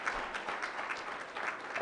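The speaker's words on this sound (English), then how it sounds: "Please, let's applaud the panel for the applaud." An audience applauds a conference panel, a short, steady burst of dense clapping from many hands with no pauses.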